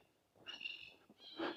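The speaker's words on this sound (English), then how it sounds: "Oh, there's black cockatoos all in the trees" Black cockatoos call from trees near houses in Innisfail, Australia: two drawn-out, harsh wailing cries heard at a moderate distance, fairly faint, with no talking.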